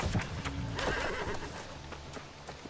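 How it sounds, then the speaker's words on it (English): A horse in the video game New World whinnies and its hooves clop softly. The sound is faint and brief, with a short neigh near the start and light, scattered hoof steps after it. "Let me hop on your horsey."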